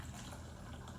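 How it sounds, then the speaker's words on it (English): Hot coffee poured straight from the pot into a milk jug for iced coffee, a steady, soft, continuous liquid stream at close range with no talking. "I'm gonna pour this one straight from the pot."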